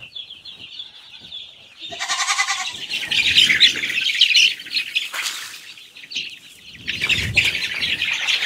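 Large farmyard hens squawk loudly and close by, with repeated harsh, raspy cackles in irregular bursts across the whole stretch.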